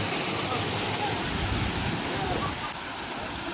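Falling water at a temple site makes a constant, soft broadband rush that stays steady throughout, like a distant waterfall.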